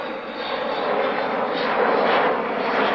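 Large fast jet airliner-size military aeroplane, capable of over 1,500 mph, flying a slow high angle of attack pass at the 1998 Woodford Airshow, a steady loud broadband engine roar sustained throughout with no talk.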